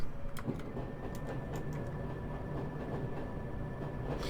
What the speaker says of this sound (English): Another S stock train coming in there